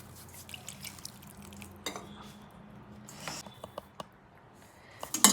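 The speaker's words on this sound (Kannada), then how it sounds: "ಇದನ್ನ ಈಗ ಸ್ವಲ್ಪ ನೀರು ಹಾಕ್ಕೊಂಡು ಎಷ್ಟು ಬೇಕಷ್ಟು ನೀರು ಹಾಕ್ಕೊಂಡು ಕಲಿಸ್ಕೊಳ್ಳೋಣ" Water is poured into a kodubale dough mix in a home kitchen, with soft liquid drips and splashes alongside scattered clinks of a spoon against a bowl, quiet and close.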